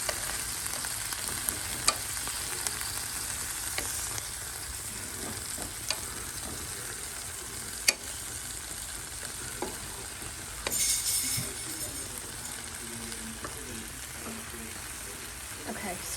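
Chopped onion frying in a pan for a chicken sausage stir fry, a steady soft sizzle running throughout with occasional clicks and scrapes of stirring.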